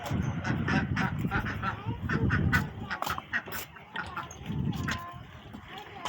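Pet geese or ducks honk and cackle repeatedly at close range as they are let out of their enclosure, the calls overlapping in bursts with some background activity.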